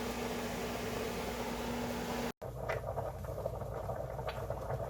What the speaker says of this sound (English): It's still kind of sizzling in some butter.